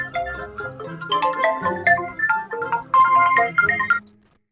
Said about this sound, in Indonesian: Ya, ada telepon.